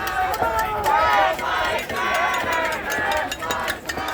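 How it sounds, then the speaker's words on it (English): A large crowd gathers at a Penn State campus protest, with many voices shouting and chanting together in a dense, continuous roar and rising bursts of yelling. "We've got the big crowd here."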